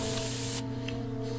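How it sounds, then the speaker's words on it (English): Pepper spray fires in South Park: The Stick of Truth, a loud, close hiss over a humming game soundtrack that cuts off abruptly partway through. "I will pepper spray you back to the Stone Age"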